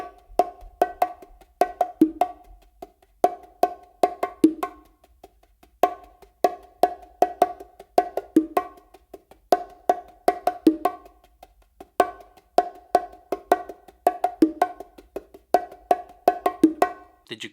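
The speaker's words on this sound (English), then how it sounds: "So I just added a little bit more ghost notes and an extra note to prepare me" Bongos are played alone in a Brazilia pattern, sharp slaps and open tones falling in repeating phrases with soft ghost notes between them, close and clear over about seventeen seconds.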